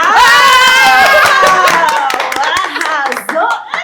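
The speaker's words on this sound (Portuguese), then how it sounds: "Pode aplaudir." A podcast studio audience claps and cheers, with bursts of hand claps mixed with loud, excited voices and shouting in the room.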